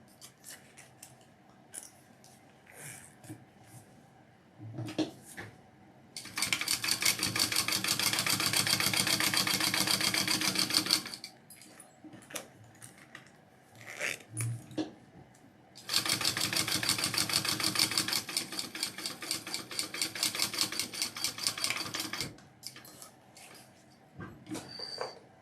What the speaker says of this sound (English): Sew that together.